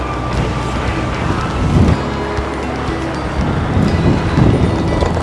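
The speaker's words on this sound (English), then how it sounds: "it is very windy" Strong wind roars and buffets steadily against the microphone, with gusts swelling louder at moments over a low rushing background.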